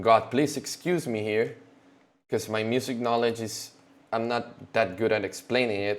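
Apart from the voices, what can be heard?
No everyday noise stands out behind the speech.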